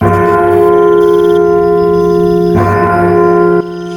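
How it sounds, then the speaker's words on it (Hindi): A sustained village temple bell tone rings loudly at midnight with rich, shimmering overtones, struck again partway through before the ringing fades a little. "गांव के मंदिर से आधी रात की घंटी बजने लगती है"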